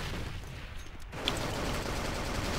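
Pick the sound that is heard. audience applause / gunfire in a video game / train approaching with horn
gunfire in a video game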